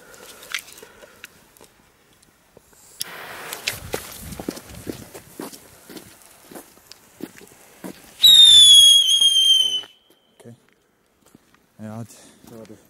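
Old Moog Nico Luftheuler whistling fireworks shriek loudly outdoors, a bright rising-then-falling whistle lasting over a second, amid scattered cracks, footsteps and people talking nearby.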